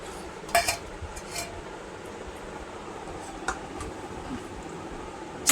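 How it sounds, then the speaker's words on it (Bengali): A spoon clinks against a dish while tomato chutney is served onto a plate beside mung dal: a few light, scattered metallic taps and scrapes over a quiet room hum, then a sharper clatter right at the end. "চাটনি তোলা হয়ে গেল"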